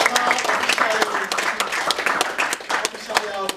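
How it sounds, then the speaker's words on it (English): A round of applause for a participant at a pitching event: dense, steady clapping from a nearby audience that keeps going for several seconds, with voices talking over it. "Okay, a round of applause for him."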